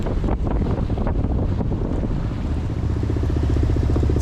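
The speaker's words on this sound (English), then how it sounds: "There's maybe 4 knots of wind." Steady wind buffets the microphone on a sailboat heading to Catalina Island in light morning air, a constant rushing roar with water sloshing beneath, no voices.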